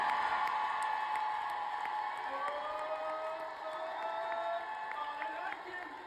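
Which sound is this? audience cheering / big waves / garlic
audience cheering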